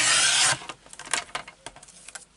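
A paper trimmer slices through a scrap of craft paper for a mini album, one loud rasping cut followed by softer shuffling and tapping of paper being handled close by.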